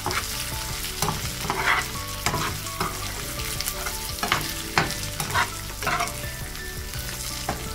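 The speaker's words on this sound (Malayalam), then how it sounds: "ഇതെല്ലാം കൂടിയിട്ട് ഒരുമിച്ച് ഇളക്കിയിട്ട് ഫ്രൈ ചെയ്തെടുക്കാം" Food stirred and fried in a pan under a steady, loud sizzle, with a spoon scraping and clattering against the pan at irregular intervals and no voices.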